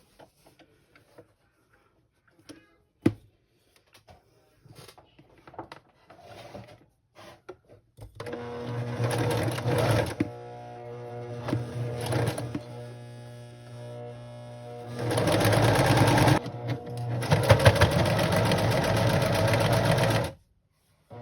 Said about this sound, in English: here I am at my sewing machine